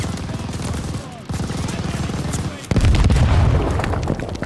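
Sustained machine gun fire from a tower-mounted MG in the Call of Duty Vanguard war game, loud and continuous with a brief gap, mixed with explosions and battle noise.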